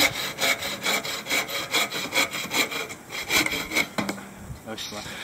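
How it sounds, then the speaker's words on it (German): A hand saw cuts through resinous pine fatwood outdoors in rapid, rhythmic back-and-forth strokes, close and loud, then slows to a few final scrapes as the cut finishes. "Ich nehme meine eigene Säge."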